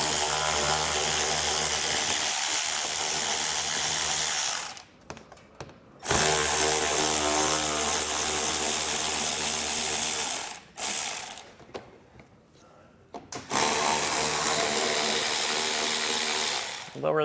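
A power ratchet tool backs out small 7mm-head screws holding deflectors on a 2023 vehicle, whirring in several long close bursts separated by short pauses.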